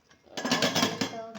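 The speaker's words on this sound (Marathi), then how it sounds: "तर आता मी फर्स्ट टाईम झाकण लावणार आहे" A metal lid clanks down onto a cooking pan of frying onions, giving a short run of loud, close clattering knocks that settle into a quieter rattle.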